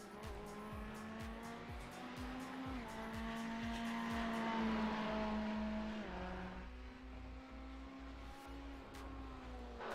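Race cars at Bathurst in the iRacing sim, engines droning and shifting pitch as they pass, with a tire squeal and a low steady hum beneath, fairly quiet throughout.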